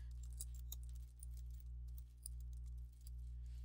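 Steady typing on a computer keyboard while writing an essay, quick soft key clicks in an even rhythm with brief pauses, close and quiet over a constant low electrical hum.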